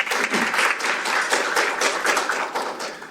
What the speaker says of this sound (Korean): 박수 한번 추가로 부탁드리겠습니다.